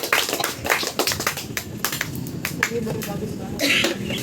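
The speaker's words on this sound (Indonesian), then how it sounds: "Oke, kita beri tepuk tangan untuk kelompok yang Fatia." Classroom applause rises as a group finishes presenting, scattered irregular claps at moderate loudness that continue for several seconds.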